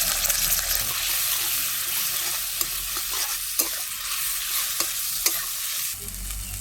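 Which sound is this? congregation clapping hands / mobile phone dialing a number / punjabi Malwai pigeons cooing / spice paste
spice paste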